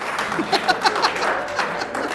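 An audience at a Hindi comedy poetry show by Rohit Sharma bursts into short, lively applause, with scattered claps and a voice faintly underneath.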